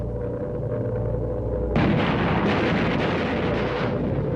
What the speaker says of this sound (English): Hitler ordered a massive bombing campaign against London.